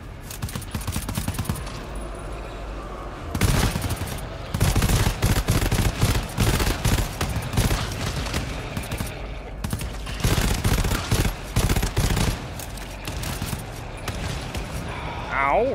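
Gunfire in the co-op shooter game GTFO, with dense bursts of weapon fire including shotgun blasts, loud and sustained across the span, with players talking over the shooting.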